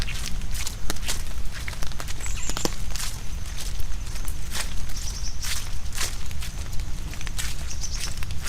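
Footsteps crunch steadily along a nature-preserve trail in light rain, close and continuous, with scattered brief knocks and faint high bird chirps in the background.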